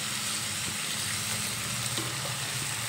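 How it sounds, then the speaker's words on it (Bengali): Elephant foot yam stems sautéing with spices in a pan, a steady, close, bright sizzle with a few soft stirring scrapes, no voices. "ওলের ডাঁটা দেওয়ার পরে আরও কিছুক্ষণ আমি কষিয়ে নেব।"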